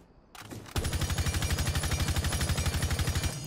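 Rapid automatic fire from an operator's main gun in the video game Rainbow Six Siege, a loud, steady burst of evenly spaced shots that runs for about three seconds after a brief click.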